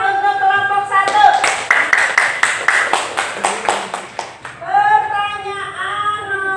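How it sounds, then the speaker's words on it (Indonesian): Students in a classroom clap for a group, producing a burst of quick, rhythmic hand claps in the middle, with talking heard before and after. "Yuk, sekarang tepuk tangan untuk kelompok 1."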